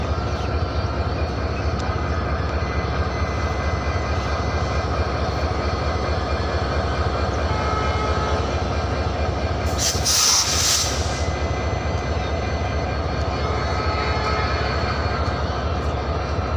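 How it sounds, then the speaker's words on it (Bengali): Trains at Kamalapur railway station in Dhaka: a constant loud rumble of rail traffic fills the whole stretch, with a brief hissing burst midway and no voices. "কমলাপুর রেল স্টেশন থেকে আপনাদেরকে দেখানোর চেষ্টা করছি"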